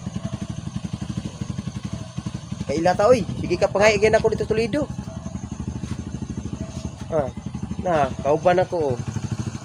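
A motorcycle engine runs at a steady idle-like putter, its rhythmic pulsing continuous throughout while people talk over it at close range.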